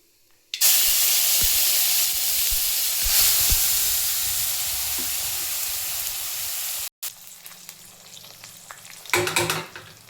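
Ground tomato rasam paste with garlic, pepper and cumin hits a hot pan with a sudden loud hiss, then sizzles steadily for several seconds before cutting off, followed by quieter spoon clatter and a brief burst of stirring.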